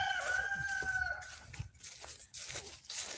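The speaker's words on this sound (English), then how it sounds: "and avoid the neighbor's chickens." Neighbor's chickens clucking with a rooster crowing, a clear drawn-out crow in the first second and a half followed by scattered clucks and rustling nearby.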